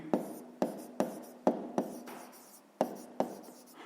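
A pen or pencil writes numbers by hand on paper during a fifth-grade math exercise, giving seven or eight short scratchy strokes at a quick, slightly uneven rhythm, close and quiet with no talking.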